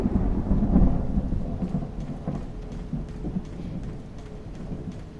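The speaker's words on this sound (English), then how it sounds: "Some spooky lightning in the background." In Resident Evil 4's castle, thunder rolls low and heavy over steady rain, the rumble swelling early and then fading into softer background storm noise.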